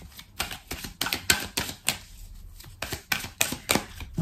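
Oracle cards being shuffled by hand, a rapid close series of crisp flicking and riffling snaps in quick uneven bursts, with no voice heard.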